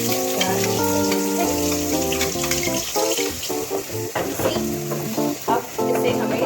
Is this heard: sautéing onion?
yes